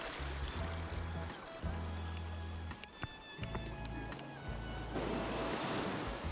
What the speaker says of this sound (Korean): 파도가 참 예쁘게 치는데 혼자 걷고 있네요.